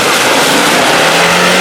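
A Suzuki Jimny engine roars hard under acceleration off-road, loud and close, a dense continuous rev with no gaps.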